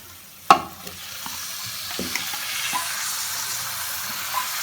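Marinated chicken in a tomato-yogurt masala frying over low heat, a soft steady sizzle with one sharp clatter near the start and a few light scrapes of stirring.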